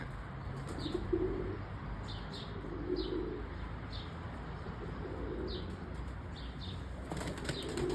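Domestic pigeons in their coop flap their wings in several soft bursts and coo in low, repeated murmurs, with a few faint chirps scattered above a steady background.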